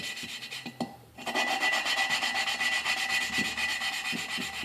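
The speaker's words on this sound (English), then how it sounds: "you can really notice how it starts out loud as it starts to grind" Rapid rhythmic grinding rasp of valve lapping on a 1995 Enfield Bullet 500 motorcycle engine, close and steady, starting after a brief scrape and continuing as a gritty back-and-forth rubbing.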